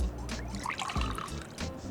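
Eye wash solution pours into a small glass eye cup, a soft close trickle of liquid lasting about two seconds, with a faint voice murmuring underneath.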